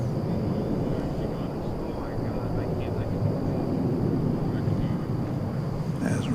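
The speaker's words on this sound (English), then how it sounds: "we're about to see the Embraer 170 arriving from Oklahoma City" Embraer 170 airliner arriving from Oklahoma City at DFW Airport at night, a steady broad rumble of jet engines holding constant throughout, with faint background noise and no clear talking.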